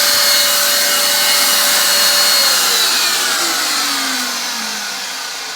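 A cleaned Bissell vacuum turbo brush whirs loudly nearby, its whine holding steady, then sliding lower and fading as the brush spins down.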